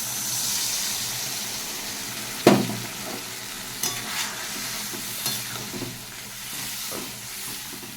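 A soaked spice paste of turmeric and ground spices in water hits a hot pan and fries with a steady sizzle, broken by a sharp splash-like burst and several scraping stirs.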